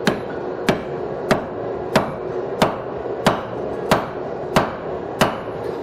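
A hammer strikes a forged steel anvil hardy cut-off tool to break off a weld, landing nine sharp, evenly spaced metallic blows that ring out close and clear with no talking.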